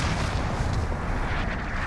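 Video game gunfire with aircraft under fire, a dense continuous roar of rapid shots and booms, loud and close throughout with no talk.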